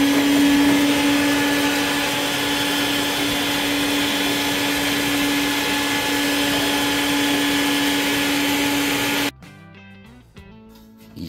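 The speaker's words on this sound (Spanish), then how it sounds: "vamos a encender la aspiradora para limpiarlo" A vacuum cleaner drones steadily and loudly up close with a constant whining tone, then cuts off abruptly, leaving quieter background sounds.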